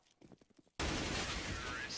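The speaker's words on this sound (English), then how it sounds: "That is a lot of gunfire right there." Dense, sustained gunfire from a Counter-Strike esports match bursts in loudly after a brief stretch of commentator voice and then continues without a break.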